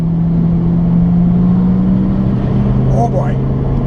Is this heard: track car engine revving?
yes